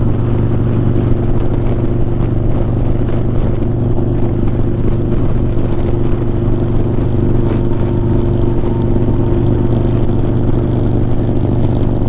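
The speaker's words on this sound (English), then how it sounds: "The sound of these, that these 124s are making sounds great." A Fiat 124 sports car with a twin-cam engine and a 2-into-1 exhaust drones loudly and steadily while driving, with a strong low rumble and no speech.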